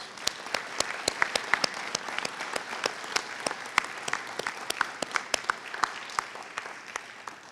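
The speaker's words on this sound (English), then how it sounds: "please join me in giving her a round of applause" Audience applause at a homecoming Hall of Fame and alumni recognition banquet, a lively smattering of clapping with distinct sharp claps from nearby hands, sustained for over seven seconds without speech.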